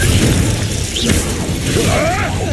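A Confringo fiery blast spell erupts in Hogwarts Legacy combat, a loud, close boom with crackling debris over a dense rumble of battle noise that keeps going.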